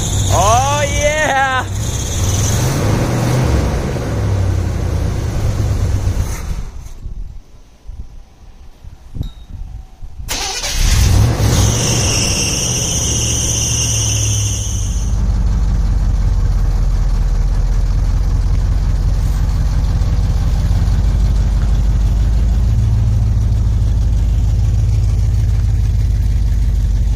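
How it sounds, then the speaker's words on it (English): A car engine is cranked and catches, then settles into a loud, steady idle close by, after a stretch of cranking and a brief near-silent pause; someone talks and cheers over it early on. "try to start it up to see if it fires up"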